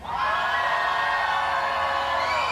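Massed cheering and yelling from a large trackside crowd at Talladega in 2009 voting in a Halloween scream contest; a loud, sustained roar of many voices, with whoops rising above it.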